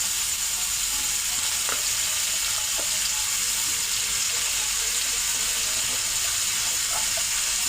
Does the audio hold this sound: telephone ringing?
no